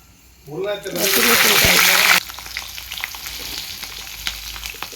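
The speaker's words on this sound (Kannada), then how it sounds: "ಈರುಳ್ಳಿ ಉಳ್ಳಾಗಡ್ಡೆ ಹಾಕ್ತಾ ಇದ್ದೀನಿ ಇದಕ್ಕೆ ಬಹಳ ಟೇಸ್ಟಿ ಆಗುತ್ತೆ" Onions frying on a home stove give a loud, dense sizzle for about two seconds as they hit the hot oil. The sizzle then settles into a quieter crackle with scattered pops and some faint background noise.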